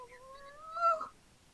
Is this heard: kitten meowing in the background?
yes